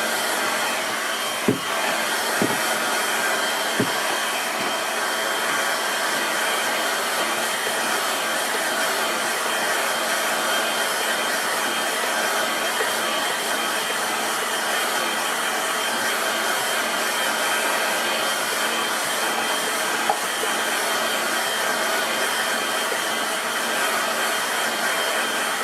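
A hair dryer blows over a watercolour painting of a rocky Greek shoreline, a loud, steady close-up whir running unbroken for the whole stretch, with a few faint clicks early on and no talk.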